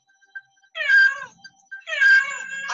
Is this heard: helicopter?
no